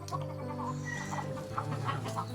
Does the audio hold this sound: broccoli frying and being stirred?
no